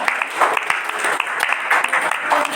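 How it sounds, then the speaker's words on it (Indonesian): Applause from a small group during an online database-systems class session, a steady patter of clapping hands lasting the whole moment at moderate loudness. "berikan aplaus dulu"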